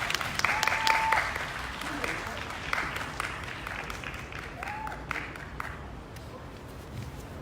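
A crowd at an outdoor rally for disability rights and against discrimination applauds to welcome speakers, a sustained wash of clapping heard at a moderate distance that slowly tapers off, with a faint voice and whistle-like tones mixed in.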